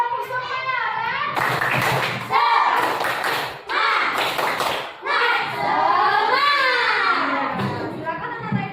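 Fourth-grade pupils in a classroom clap in rhythmic bursts of hand claps, overlapping with lively children's voices and a teacher talking between rounds.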